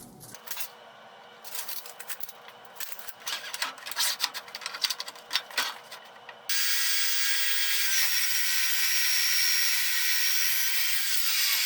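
A cold-cut saw slices through a metal piece during a fabrication job, giving a rapid, gritty mechanical rattle that gives way to a steady, loud high whine as the cut runs on.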